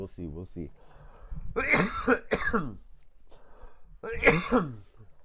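Several harsh, close coughs in quick bursts, with throat clearing between them, loud and near.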